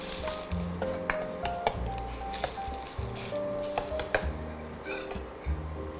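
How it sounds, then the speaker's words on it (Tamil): Ginger garlic paste and masala being stirred in a pan over a low flame, a soft continuous sizzle with repeated scraping and clinks of the spoon against the pan, close and fairly quiet. "இப்போ இந்த இஞ்சி பூண்டு பேஸ்ட்டு மசாலா பொருள் எல்லாமே மிக்ஸ் ஆகிற அளவுக்கு நல்லா கிளறி விட்டுக்கோங்க."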